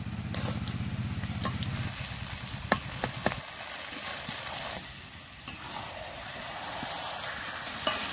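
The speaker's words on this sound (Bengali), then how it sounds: "এরকম করে তেজপাতা দিয়ে একবার মাটনটা রান্না করে দেখবেন" Fatty mutton frying with bay leaves in a pan gives a steady, close sizzle and crackle throughout, with occasional sharp pops and a brief stir.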